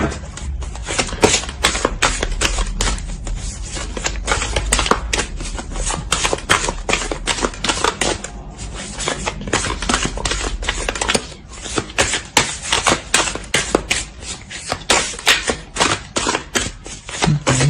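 Tarot cards shuffled briskly by hand, a dense run of rapid riffling flutters and slaps with a short pause partway through, close and loud with no talking.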